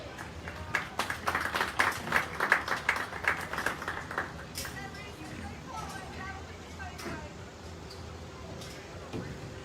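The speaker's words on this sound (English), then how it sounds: "Give them a round of applause." Audience at a 4-H market swine show giving a round of applause in a show barn, several seconds of modest, rhythmic clapping that fades out into background chatter and speech.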